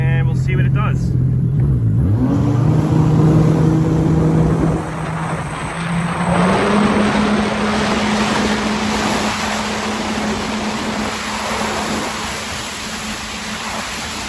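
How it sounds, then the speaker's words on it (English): A SeaDoo jet ski with an Active Jet Sport setup accelerates across open water from a no-wake zone, its engine drone rising steadily and holding loud under heavy wind rush, with a person talking over it. "Let's go ahead and open it up a little bit and we'll see what it does."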